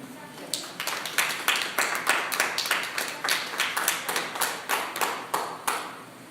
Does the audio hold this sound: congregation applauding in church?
yes